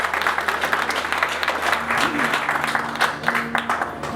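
Wedding guests clap after the couple exchange vows, a lively ragged applause with some crisp individual claps, while a voice speaks faintly underneath.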